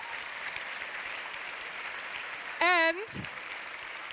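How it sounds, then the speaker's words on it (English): An audience at a European film award ceremony gives a faint, steady patter of applause in a large hall, continuing throughout, briefly interrupted by a loud tonal burst and a voice near the end. "Please give a big round of applause to all three of them as well."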